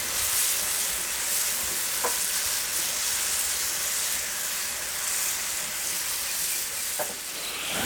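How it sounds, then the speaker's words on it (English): Potatoes simmering in tomato liquid on a barbecue, a loud continuous bubbling sizzle with a couple of soft stirring scrapes, close and without talk. "Now add the tomato liquid and stir, cooking for a further 2 or 3 minutes until the juices have thickened."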